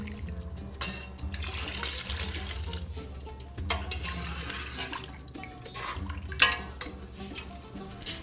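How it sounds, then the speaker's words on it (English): Two cups of water splash and pour into a metal pressure cooker pot in short bursts, with a low hum and clinking in the background of a quiet kitchen. "Adding 2 cups of water."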